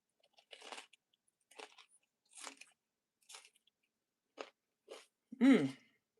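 Someone chews a vegetable spring roll that has been dipped in peanut sauce, giving about seven separate crunchy bites spaced roughly a second apart against silence, with the last bite loudest and wettest.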